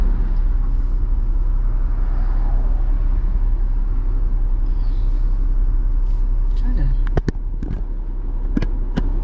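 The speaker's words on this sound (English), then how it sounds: "I'm in the woods, right next to that bridge. And it's crazy traffic, I swear." Steady road traffic rumbles beside a bridge in the woods, a continuous low drone of passing vehicles, with a few sharp knocks and crackles near the end.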